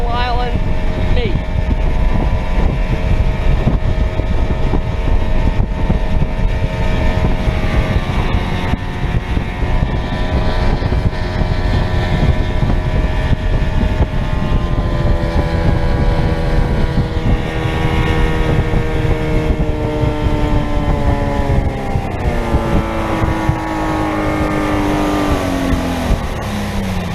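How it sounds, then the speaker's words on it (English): Vintage pre-1962 outboard motor idling on Long Pond in Maine's Belgrade Lakes, a steady close rumbling drone with tonal harmonics that waver and shift near the end, under intermittent wind buffeting. "Engine at idle."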